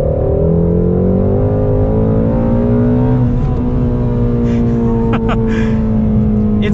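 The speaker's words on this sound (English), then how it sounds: "Just listen to that engine." A Shelby GT350's powerful engine revs loudly and steadily, its pitch climbing through the range with a deep rumble throughout, close and continuous.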